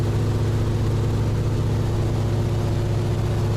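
Airliner landing, a steady loud engine drone with low hum and broadband rumble that sounds much like a tractor, continuous throughout with no talk.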